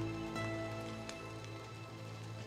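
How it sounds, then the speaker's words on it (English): Rain falls in the horror video game Masochisia, a soft, even patter with a low steady hum beneath it, quiet and continuous with no talking over it. "The sound of rain?"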